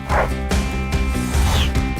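A Turkmen Alabai dog, a large shepherd breed, barks in loud, deep, rapid woofs close by, several in quick succession with yips mixed in.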